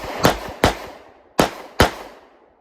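A ported stainless steel S&W 640 J-frame revolver fires four sharp, loud shots during a shooting drill, in two quick pairs separated by a short pause, each with a brief ringing decay.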